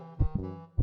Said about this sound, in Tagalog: naririnig ko na rin yung tibok ng puso ko